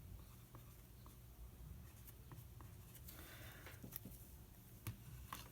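A pen writes out a math inequality by hand, giving a soft continuous scratching with short strokes and taps, close and quiet, with no talking.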